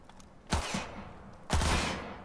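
Gunfire in the video game Cyberpunk 2077 on PS4: two loud, booming shots about a second apart, each trailing a long echoing decay, with no talk over them.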